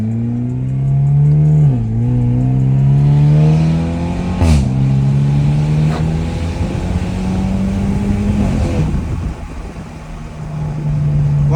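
A stage 2+ tuned BMW F30 accelerates hard, heard loud from inside the car. The engine note climbs, drops sharply at each gear shift and rises again with a deep, throaty drone.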